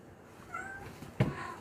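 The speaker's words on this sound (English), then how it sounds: "That's Kitty over here crying" A house cat crying indoors, with a faint drawn-out meow followed by a short sharper cry near the end, alone against quiet room tone.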